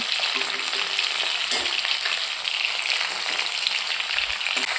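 Steady, dense sizzling of fish frying in hot oil, continuous and close, with faint clinks in the background.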